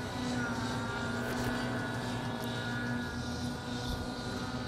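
A radio-controlled model helicopter flying at a summer heli camp makes a steady, moderately distant engine and rotor drone with a constant whine, while people talk faintly in French.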